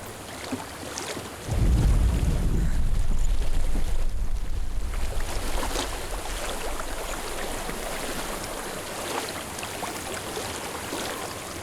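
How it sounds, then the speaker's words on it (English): Flowing water in the video game Hellblade: Senua's Sacrifice, a steady broadband rush that swells up loudly after a quiet opening and then holds as a continuous stream-like wash with some wind-like noise. "I hear water."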